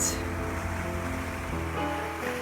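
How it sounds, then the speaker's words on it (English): Ocean swell and big waves break against the shore in a steady, loud wash of surf with no pause, heard close with no voices. "We've got this swell coming in, as you can see, these big waves."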